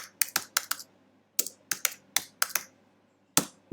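Typing on a computer keyboard in a spreadsheet, with quick key clicks that come in short bursts of three to five separated by pauses. The keys are close and crisp over a quiet room.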